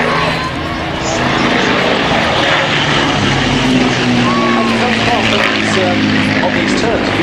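A Hawker Nimrod biplane flies past at an air show with a steady, loud propeller engine drone that fills the whole stretch. A voice talks over the aircraft noise throughout.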